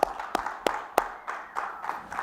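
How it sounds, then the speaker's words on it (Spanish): A congregation of men claps for the women in a church service, a few loud, sharp claps early on giving way to softer, more scattered clapping. "Varones, démosle palmas a las hermanas virtuosas, con ganas"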